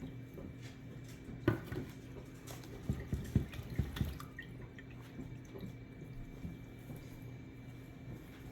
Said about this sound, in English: Now I'm just going to drain this out because we're not going to use the brine.